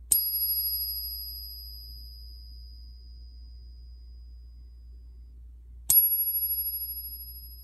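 A genuine 90% silver Walking Liberty half dollar is struck twice, about six seconds apart. Each strike gives a clear, high, bell-like ring that sustains and slowly fades in a quiet room.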